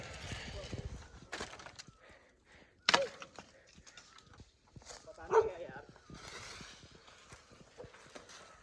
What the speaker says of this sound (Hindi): कुत्ता है, ज़्यादा दिक्कत की बात नहीं है